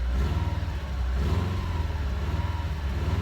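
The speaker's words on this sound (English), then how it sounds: "All right, the WRX is running." A Subaru WRX with a JDM-swapped EJ205 engine runs steadily close by, a rough, pulsing low rumble with an even throb and no voices.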